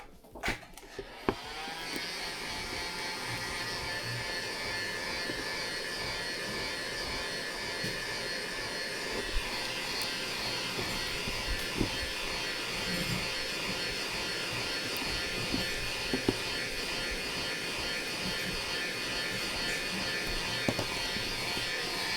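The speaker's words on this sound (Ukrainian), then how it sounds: "Давай фен трошки підігрівай." A steady, loud electric whir of a hair dryer blowing hot air continuously, close by, warming a Nissan Micra K12 headlight during disassembly, with faint clicks and handling noises over it.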